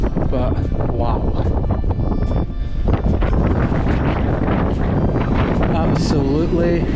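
Strong wind on a Cairngorm mountain top near Ben Avon and Beinn a' Bhùird buffets the microphone in a loud, continuous roar, with someone speaking through it.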